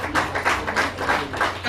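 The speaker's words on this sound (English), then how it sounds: "Everyone is standing applause for him." Clapping at a three-day curriculum development workshop, with a standing audience applauding a speaker: a short run of distinct, fairly evenly spaced claps at moderate loudness, thin rather than a dense roar.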